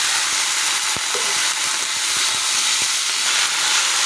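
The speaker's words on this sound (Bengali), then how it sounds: "তো এখন আমার পেঁয়াজটা হয়ে গেছে, ভাজা। তো আমি এখন এই যে সবজিটা দিয়ে দিচ্ছি" Vegetables tumble into a pan of fried onions and sizzle steadily, a loud continuous hiss with a few small clicks and pops.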